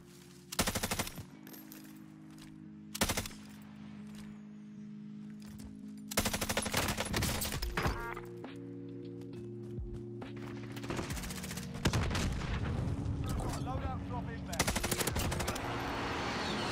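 Gunfire in Call of Duty Warzone, with sharp bursts and shots hitting at irregular intervals over a steady game ambience and music bed, some cracks loud and close, others trailing into rapid volleys.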